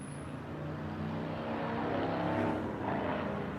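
A car engine swelling as the vehicle passes close by, a loud broad roar peaking mid-way then easing off.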